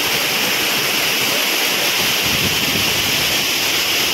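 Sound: Areekal waterfall rushing water

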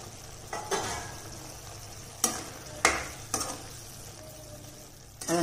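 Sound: okra being sautéed in a pan

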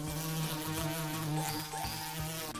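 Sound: buzzing of bees

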